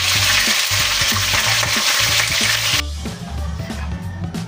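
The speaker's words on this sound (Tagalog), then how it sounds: "sisimulan na po natin ang maggisa ng ating sarsa" Sauce for tochong tilapia sautéing in a pan, with a loud, steady sizzle and hiss and intermittent stirring scrapes, heard alone.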